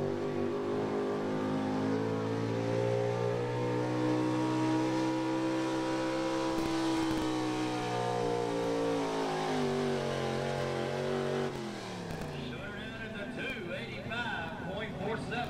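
A square-body Chevy 4x4 small-block pulling truck revs hard and holds a loud, steady engine roar as it drags a sled down the track at an outdoor truck pull, the pitch climbing and then dropping near the end of the run.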